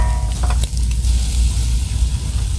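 Pork ribs sizzle while grilling for a home breakfast, a steady close crackle of fat and meat holding at a constant level throughout, with no talk.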